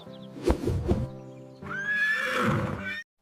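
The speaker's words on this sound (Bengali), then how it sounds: "এইটা হলো ঘোড়া ছানা ঘোড়া ছানাকে ইংলিশে বলে ফোল" A foal neighs close by, a couple of short whinnies followed by a longer, rising high-pitched call that ends abruptly.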